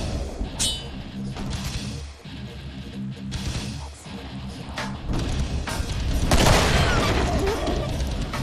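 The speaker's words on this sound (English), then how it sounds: "Boomstick time" Boomstick double-barreled shotgun in the Killing Floor shooter game, heavy booming blasts amid a busy clatter of other gunfire and impacts, growing louder and denser toward the end.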